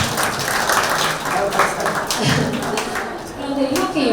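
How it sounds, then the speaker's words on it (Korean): An audience at a cooking talk event claps in dense, scattered applause with some thumps, while a host's voice carries over it. "지금 박수 한번 부탁드리겠습니다."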